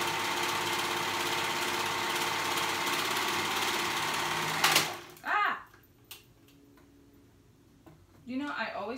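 A sewing machine stitches a wrap dress in steady, whirring runs for several seconds, then stops abruptly. After that come brief clicks and handling noises, and a voice speaks near the end.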